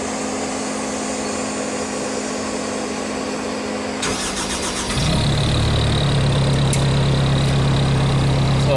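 A Mudd-Ox utility vehicle engine cranks and catches partway through, then settles into a steady, fairly loud idle with a constant hum, after a stretch of quieter background noise.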